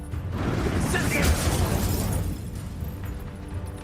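An Incendio fire spell from the video game Hogwarts Legacy, heard as a loud, continuous fiery whoosh and crackle during combat that swells and then fades slightly.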